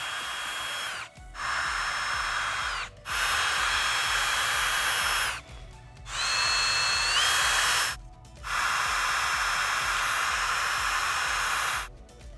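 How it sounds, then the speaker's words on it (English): Power drill boring a pilot hole for a hinge mechanism on a DIY 2.4GHz directional antenna, run in five long whining bursts separated by short pauses, close and steady, with no talking. "We've drilled out our pilot hole for this guy right here."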